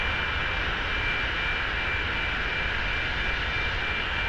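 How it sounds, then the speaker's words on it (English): Hawker 4000 business jet engines in the X-Plane 11 flight simulator, a steady broadband jet roar with a faint whine, constant and close, with no talk. "Can you guys hear the engine?"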